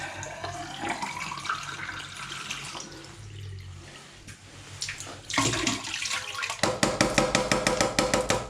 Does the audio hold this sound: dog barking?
no